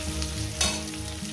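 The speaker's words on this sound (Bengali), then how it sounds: "আলুটাকে মিনিমাম আমি 2-3 মিনিট ধরে ভেজে নিয়েছি" Potatoes frying in a pan with spice paste and turmeric give a steady soft sizzle, with a brief stir or scrape in the middle, faint and without talk.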